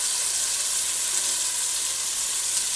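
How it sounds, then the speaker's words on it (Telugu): Onions with ginger-garlic paste fry in a pan as tomato goes in, making a loud, continuous sizzling hiss that holds steady with no talk. "ఇప్పుడు ఉలుపులు ఫ్రై అయిపోయిన దీంట్లోకి టమాటా వేసుకోవాలి"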